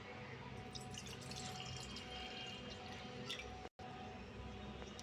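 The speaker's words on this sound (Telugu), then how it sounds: "ఏ గ్లాస్తో అయితే పిండి తీసుకున్నామో అంత గ్లాస్తో వాటర్ వేసుకుందాం" Water splashes and trickles steadily into a metal pan, with faint drips and a brief pause near the end; no voices.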